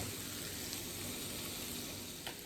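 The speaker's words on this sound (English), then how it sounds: "And we're going to let this fry." Cabbage, sausage and shrimp sizzle steadily in a frying pan, a constant close crackling hiss with a couple of faint clinks, no talking.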